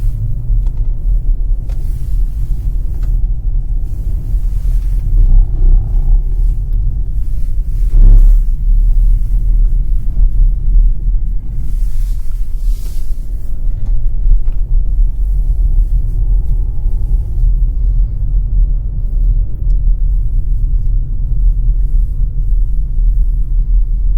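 A MAGNA all-wheel-drive car runs a slalom course on snow in normal mode, its engine and road noise a steady, loud low rumble throughout with slight swells as it weaves, and no talking.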